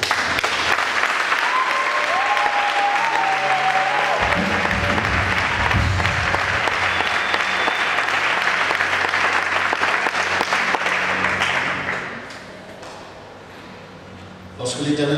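Sustained applause from a large audience at a French-language church service, steady and loud for about twelve seconds before fading, with a voice over it.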